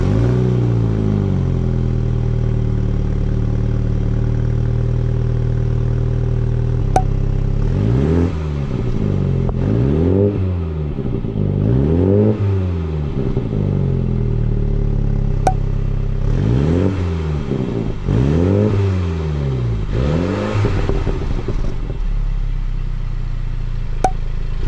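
Revving car engine fitted with a sports cat exhaust, several rising and falling throttle blips in a row over a steady idle, loud and close with no talking.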